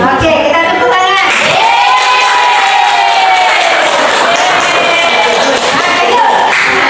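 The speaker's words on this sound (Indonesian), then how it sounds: "Oke, kita tepuk tangan." A loud group, mostly children, cheers and shouts with scattered clapping in a continuous, close, dense burst of excited voices.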